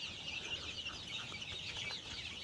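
Male hybrid layer chicks peep and cheep in a continuous, faint high-pitched chatter, with no voices over them.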